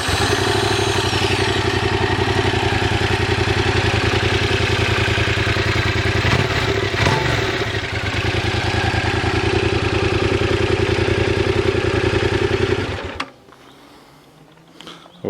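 A Yamaha MT-07 motorcycle with its stock Euro 5 exhaust idling close by, a steady throbbing engine note that runs for about thirteen seconds before cutting off abruptly into near silence.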